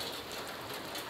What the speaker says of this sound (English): I got the camera inside because you can see it's raining outside.